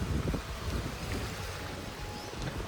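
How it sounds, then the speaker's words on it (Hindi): Rough sea waves crash and surge near a beach in Akhnoor, a steady roar of churning water and wind rumbling at close range without a break. "किन्नी खतरनाक लहरें हैं"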